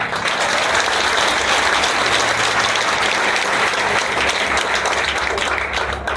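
Sustained applause from a church congregation fills the space, dense and steady throughout with no gaps, loud and close, with no clear speech on top.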